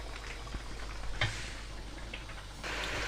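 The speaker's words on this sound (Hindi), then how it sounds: "इसी तरह पकने देंगे, पानी को खुश्क करेंगे अच्छी तरह।" Low, steady bubbling and sizzling of beef karahi simmering as its water boils off, with small pops and a slight rise in hiss toward the end.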